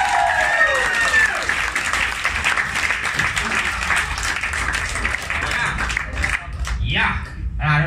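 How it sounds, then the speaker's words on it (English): A comedy show audience breaks into loud, sustained applause with some cheering, the clapping fading near the end as a voice starts to speak. "Round of applause for Shah, everyone."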